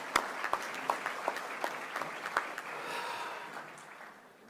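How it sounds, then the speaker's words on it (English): Applause from a banquet audience at a Chamber of Commerce event in Monroe, Louisiana, starting with a few distinct claps before settling into steady, moderately distant clapping that fades out toward the end. "I think that's worth another round of applause."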